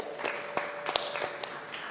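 Conference audience gives a faint round of applause for a panel moderator, sparse scattered claps heard at a distance over a quiet room tone with a faint steady hum.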